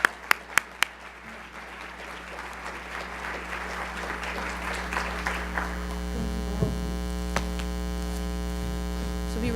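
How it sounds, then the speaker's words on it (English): Audience applause at a keynote award ceremony, a dense wash of clapping over a steady mains hum, with a few sharp close claps at the start before the applause fades into lingering hum and scattered noise. "Please join me in giving the biggest round of applause"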